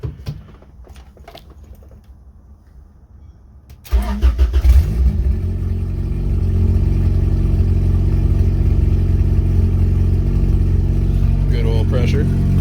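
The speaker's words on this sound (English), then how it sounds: "I'll go ahead and fire it up and show you how it's sounding now." Turbocharged Honda H22A engine in a fifth-generation Accord, quiet until about four seconds in, when it cranks and fires, then settles into a loud, steady close idle with no talk over it.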